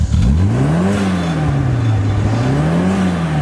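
An S-chassis car fitted with an HKS exhaust revs loudly up close, the engine note climbing and falling in two smooth sweeping blips over a sustained deep drone.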